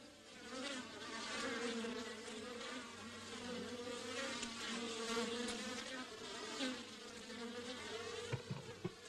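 Bees buzzing steadily and close by, a dense droning hum that wavers in pitch, with a few sharper buzzes near the end.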